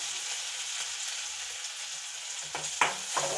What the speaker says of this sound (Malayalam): അത് വറ്റൽമുളക് ഇടുക.